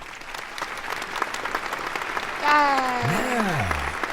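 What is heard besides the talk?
applause for podcast guest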